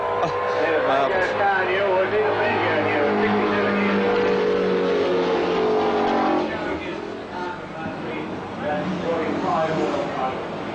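Vintage racing cars of the Fangio and Brabham era running past a grandstand, a continuous loud engine roar that eases slightly in the latter part, with someone talking over it throughout.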